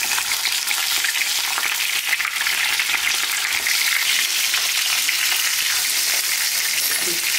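Stuffed capsicums (bharwa shimla mirch) fry in a covered pan, giving a steady, loud, close hiss of oil sizzling without pause and with no voices.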